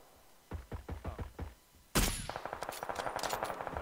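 Gunfire in PUBG: Battlegrounds: a quick run of single shots followed by a loud sustained automatic burst, sharp and close, with no talking.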